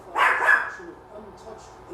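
A dog named Ethel gives a short bark or two near the start, fairly close, with a faint background hum and no other sound after.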